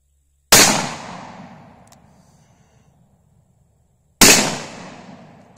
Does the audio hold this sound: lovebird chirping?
no